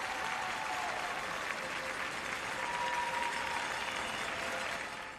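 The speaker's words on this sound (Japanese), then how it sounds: "最後は拍手の中ペアスピンコンビネーションを決めまして、イナ・キョウコこの笑顔" An arena crowd at the 2002 World Figure Skating Championships applauds after a pair spin combination, sustained even clapping that fills the hall at a moderate distance before easing off.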